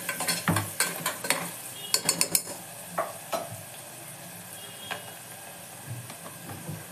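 Onions with salt frying in a pan while being stirred: a bright continuous sizzle with a quick run of clattering spoon scrapes early on, then sparser knocks, close by.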